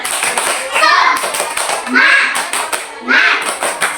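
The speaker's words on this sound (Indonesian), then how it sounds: "Sebelum belajar, kita tepuk semangat dulu yuk." Kindergarten children perform the 'tepuk semangat' rhythmic clapping chant in a classroom, three bursts of sharp group claps mixed with young voices chanting together, fairly close and lively.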